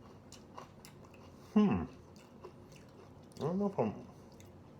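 Two crisp bites into dense, crusty no-knead beer bread, each followed by brief close chewing, quiet between them, with a voice speaking faintly.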